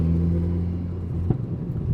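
A Stage 2 Volkswagen Golf R engine drones in a steady low rumble while driving at night, heard from inside the car, with a short bump partway through and no talking.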